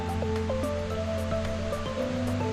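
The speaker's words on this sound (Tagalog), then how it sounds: "So ito yung galing sa waterfalls na diba?" Water flows from a waterfall at a hidden nature and water spring resort in Lake Sebu, South Cotabato, a steady dense rushing wash with no break across the whole stretch.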